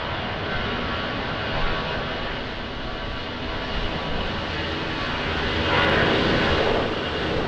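An airliner takes off from Lisbon Airport in a strong crosswind, a continuous broadband jet roar that holds steady, then swells louder near the end, with no voices over it.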